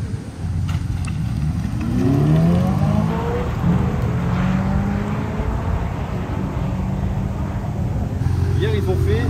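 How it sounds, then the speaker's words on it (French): A 650-horsepower drag race car launches with a loud engine roar that climbs steeply in pitch over the first few seconds, then holds a sustained, rough, powerful drone until the end. "C'est la voiture qui fait le plus de bruit au monde."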